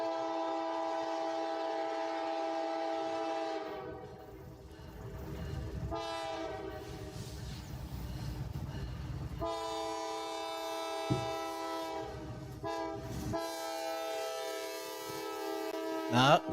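Two freight trains pass, led by a Norfolk Southern locomotive with a KCS unit right behind, the horn sounding loud, long, sustained blasts that break off and return amid steady rumbling rail noise.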